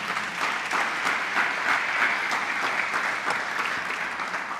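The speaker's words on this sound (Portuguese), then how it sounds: "dá um glória e um aplauso a Jesus aí por isso" Church congregation breaking into sustained applause, thick continuous clapping with slight swells, fairly close and loud.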